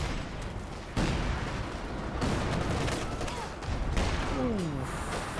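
Artillery rounds fire and land in a Company of Heroes 2 battle as a steady rumble of heavy booms and gunfire, with sharp louder impacts near one and four seconds, under faint talk.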